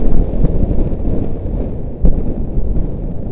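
Loud, constant roar of strong wind buffeting the microphone, gusting low and heavy throughout with a few thumps, no voices.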